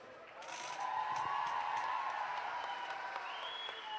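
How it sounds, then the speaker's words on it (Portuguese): Moderate applause from an audience at a folk arts rodeo in Abdon Batista, greeting a children's folk dance troupe, clapping rising and holding steady under a sustained tonal hum and a few sharp clicks. "Palmas, palmas, palmas!"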